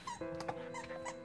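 A dog whimpers and squeaks after a game of tug of war, a steady high, thin whine with a few brief yips, close and fairly faint.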